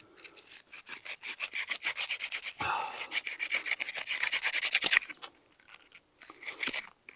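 A bow drill spindle rubs against a wooden baseboard outdoors at a winter bushcraft camp, with rapid rasping back-and-forth strokes, close and uneven, pausing briefly and then resuming.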